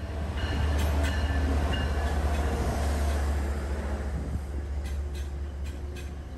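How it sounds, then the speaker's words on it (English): An MPI HSP46 diesel locomotive, number 2031, hauls a southbound MBTA Providence Line train of five bi-level coaches at Canton Junction, with a steady loud low engine rumble and rail noise throughout and faint brake squeal near the end. "First up is southbound Providence Line number 815, operated by MPI HSP 46 locomotive number 2031,"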